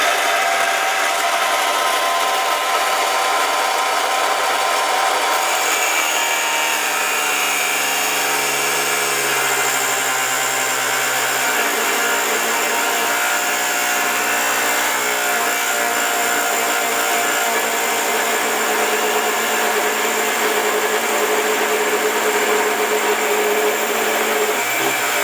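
Proxxon KGS 80 saw with an abrasive wheel grinding through very hard material, a steady loud whine with a rising, straining pitch that holds throughout.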